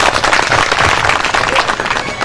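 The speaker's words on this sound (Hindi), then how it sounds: "इन लोगों के लिए भी आप लोग तालियां बजाओ" A crowd at a tribal culture gathering in a village claps loudly for the attending women, men and elders, producing a dense, continuous roar of applause that stays strong from start to finish.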